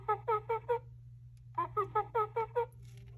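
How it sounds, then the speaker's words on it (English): Two bursts of rapid chattering monkey calls, four and then six short harmonic hoots, over a steady low hum. "This is the sound of monkey."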